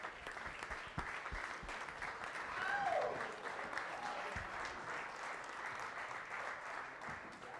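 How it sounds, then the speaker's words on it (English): A crowd applauds steadily for several seconds at a competition results announcement, dense clapping swelling slightly in the middle before holding level. "Let's give them a round of applause."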